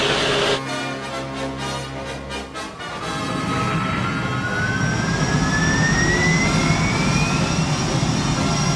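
A Concorde airliner's jet engines at takeoff, a loud continuous roar that builds and thickens after a few seconds, with a rising whine on top and a rumbling low end.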